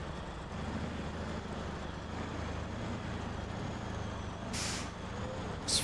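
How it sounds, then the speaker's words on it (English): Big truck rolling slowly over a rickety bridge in SnowRunner: a steady low engine drone and rumble throughout, with a short sharp hiss of air near the end and another brief burst at the very close, no talking. "That's quite a rickety bridge for a big old truck like this to be coming over."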